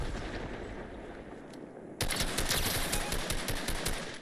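Rapid rifle fire in Fortnite Reload, a burst of quick sharp shots crackling close and loud after a stretch of quieter game ambience, about a dozen reports in fast rhythm.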